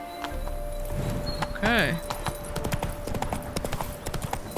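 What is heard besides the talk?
Geralt's horse Roach neighing and hooves, from video game The Witcher 3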